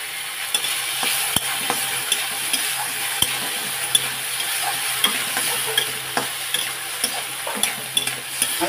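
Onion-tomato masala seasoned with salt cooks in a pan with a continuous close sizzle, punctuated by regular sharp taps and scrapes of a spatula stirring against the pan.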